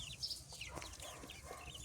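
Speckled grey chicks chirp in a busy cluster, many high thin peeps overlapping quietly at close range, with soft clucking from the birds around them.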